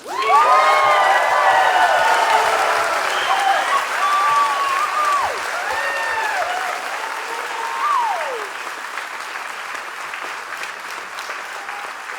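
A crowd of new citizens at a citizenship oath ceremony applauds steadily for several seconds, with whoops and high cheers rising over the clapping before it gradually thins out.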